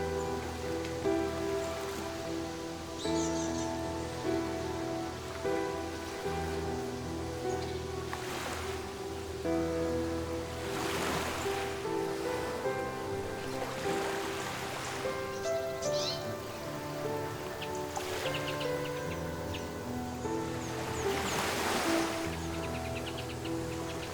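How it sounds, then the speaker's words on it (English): Waves wash onto the shore at Bora Bora in a continuous, broad rush of water, with several louder surges building and fading over about half a minute. A low steady rumble sits underneath, and no voices are heard. "the gentle sound of waves greeting the shore"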